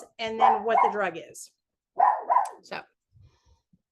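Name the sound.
dog barking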